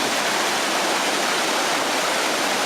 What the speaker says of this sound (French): J'adore cette cascade